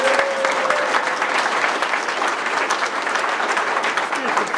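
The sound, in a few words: audience applause at ceremony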